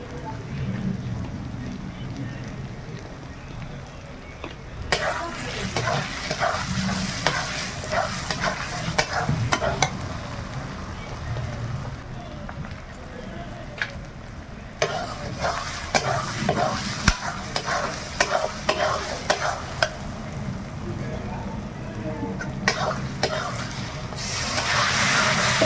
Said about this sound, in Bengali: মশলা থেকে তেল ছেড়ে গেছে, মশলাটা ভালোভাবে ভেজে নিয়েছি।